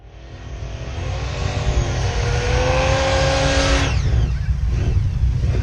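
A drag racing car skids at the strip, its tire squeal rising over a loud, steady engine roar for about four seconds before it cuts off, leaving the engine noise going.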